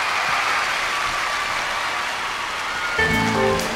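Steady audience applause fills a Korean song contest venue as the first contestant takes the stage, a dense, even wash of clapping ending as music and a voice begin.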